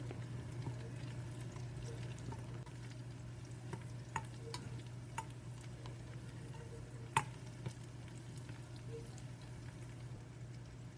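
Garlic frying for a spicy North Karnataka chutney is stirred with a spoon, a quiet continuous sizzle under faint scraping and a few sharp clicks of the spoon against the pan, with no talking.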